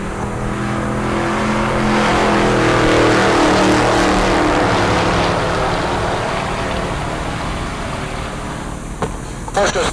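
A Porsche race car roars down the drag strip at Heartland Park Topeka, a loud sustained engine howl that builds and holds for the full stretch, with a commentator talking over it.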